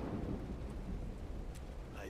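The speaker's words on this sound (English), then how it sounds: "That's why I'm out here in the rain and not in my cab" Steady heavy rain with a low thunder rumble from the Road 96 video game, a continuous wash of noise with faint brief higher crackles near the end.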